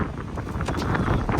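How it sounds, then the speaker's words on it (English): Strong wind gusts outdoors beside a parked 1977 Dodge Minnie Winnebago RV, buffeting the microphone in a steady, rumbling roar with rustling bursts, close and loud, with no talking. "Can you even hear me over the wind?"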